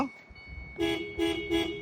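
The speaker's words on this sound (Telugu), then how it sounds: "హారన్ ఇది" Three short, loud car horn honks in a steady rhythm, each lasting a fraction of a second, close by inside a car, with faint background hum.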